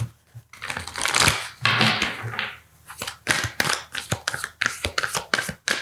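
Oracle cards being handled and picked up during a Capricorn reading, a run of soft, close taps, shuffles and slides of card stock with brief pauses between bursts, with no talking.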